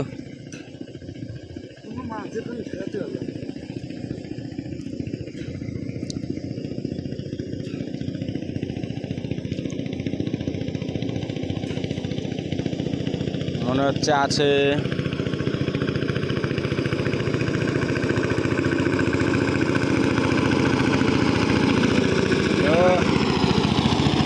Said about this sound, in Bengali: নৌকাতে না মনে হচ্ছে জাহাজ যাচ্ছে